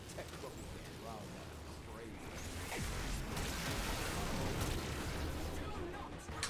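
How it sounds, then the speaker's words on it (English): Dense, continuous rumbling blasts from thermal charges detonating in the Warframe shooter, a broad roaring wash that swells louder halfway through with sharp cracks scattered on top, no clear talk over it. "Explosions."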